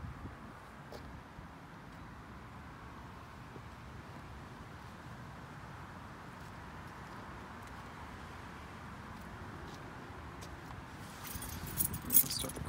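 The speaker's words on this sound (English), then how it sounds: "Has all the original keys, including the VIP keys and key tags." The original keys of a 1985 Chrysler New Yorker, with their key tags, jingle briefly near the end after a long stretch of quiet outdoor wind and distant road hum.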